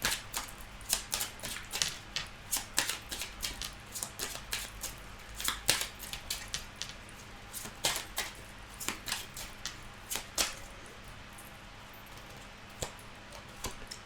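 Tarot cards shuffled by hand in a quiet room, a series of crisp, irregular snaps and riffles that come in quick bursts and then thin out toward the end.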